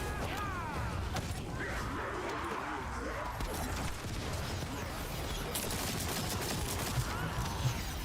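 Rapid gunfire rattles in the video game The First Descendant, dense bursts of shots layered with mechanical clanks and game effects, with a voice talking over the action.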